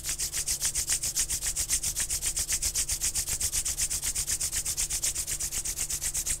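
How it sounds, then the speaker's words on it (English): Palms rubbed together steadily in a quick, even back-and-forth rhythm, close and fairly loud, with a soft hiss on each stroke and no talking. "Slowly rub your palms."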